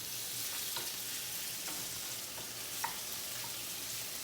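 Shrimp cook in a pan as they are moved around, a soft steady sizzle with light intermittent taps and scrapes, fairly quiet and without voices.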